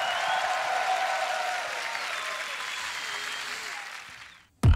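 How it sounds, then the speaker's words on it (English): Sustained applause from a beatbox battle crowd, steady and fairly loud, fading out near the end before a sudden loud bump. "can I get a round of applause for this young man right here"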